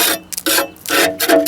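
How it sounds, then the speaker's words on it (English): A tool scrapes corrosion off the battery box of a John Deere 110 TLB tractor in short, loud rasping strokes, about four in quick succession with brief pauses between, close up and with no talking. "I'm gonna do a bit of scraping"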